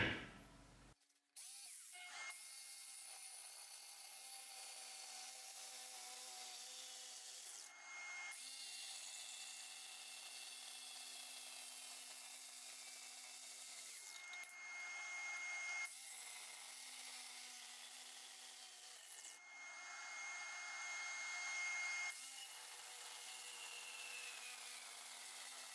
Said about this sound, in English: I'm probably just gonna use the jigsaw